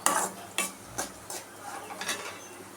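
A spoon scrapes through rice and salt in a pan in about six rhythmic strokes over a soft sizzle, close up.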